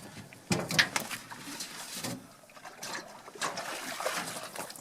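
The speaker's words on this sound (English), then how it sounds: "Rinse it off and you're done." Water trickles and splashes as a roll-up fish measuring board bump board is rinsed off after measuring a catfish, a faint irregular dribble outdoors.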